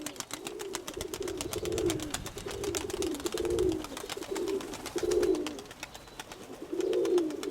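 Pigeons in a loft cooing, a series of repeated low throaty coos in a steady rhythm, close by, with a faint rapid ticking behind them.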